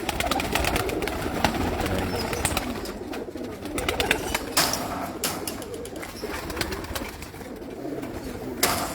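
Over a hundred pigeons coo on a rooftop loft in Hafizabad, a dense continuous murmur of soft calls close by, with scattered wing flaps and rustling.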